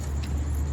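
Keys jangle briefly and close by to unlock the front of a truck, a short metallic rattle over a low vehicle rumble.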